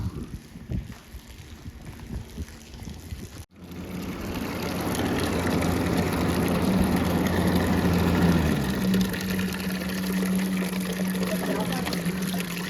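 Water runs steadily from a tap on a Punjabi farm, a continuous close gushing trickle that starts abruptly after a short pause, with voices talking over it at first.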